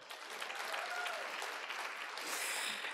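A lecture audience applauds steadily for about three seconds, a dense, even clapping that holds a constant level throughout.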